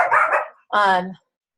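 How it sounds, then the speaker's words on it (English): A pet dog barks indoors, two close, loud barks: a rough first one, then after a short gap a sharper, higher bark, with no other sound between. "He like always barks when people want to talk."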